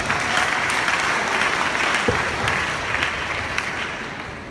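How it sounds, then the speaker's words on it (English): Audience applause fills a hall at a youth empowerment programme, dense and steady from start to finish, loud and sustained, then easing slightly toward the end with no voices standing out. "Give them a round of applause."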